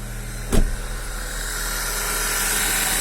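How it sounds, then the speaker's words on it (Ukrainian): A car engine runs steadily after a cold start at about 9 degrees, with a brief sharp sound just after the start before the engine settles into an even idle. "Машина завелася нормально"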